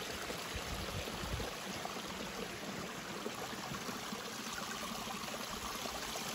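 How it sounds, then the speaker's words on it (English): Water flows through the chute of an off-grid micro hydro collection box in a steady, fairly quiet rushing trickle, close and unbroken throughout. "the water will start coming through that chute area"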